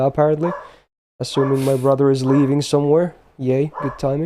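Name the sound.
dog barking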